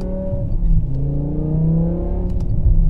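2008 BMW M5 V10 engine revving close by, rising and falling harmonic whine with rumbling low end across a few seconds, heard alone without talk.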